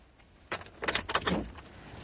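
A bunch of keys jangles in several short metallic bursts over about a second, close and fairly quiet against low room tone, with no talk.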